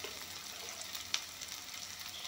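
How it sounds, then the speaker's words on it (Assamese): Onion, garlic and five-spice with turmeric frying in a pan for a curry, a steady soft sizzle with a single brief scrape or clink partway through, faint and even throughout. "পিঁয়াজ নহৰু পাঁচফোৰণখিনি ধুনীয়াকৈ ভাজি ল'লোঁ"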